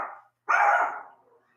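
A dog gives one loud, close bark, with a short fainter bark just before it and a brief tail of decay after.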